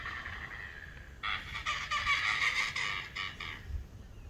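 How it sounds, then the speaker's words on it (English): Anhingas call in a swamp rookery, a rough gobbling, clattering chatter that starts faintly and then swells into a louder run of several calls over a steady outdoor background. "the birds that you hear are the Inringas talking"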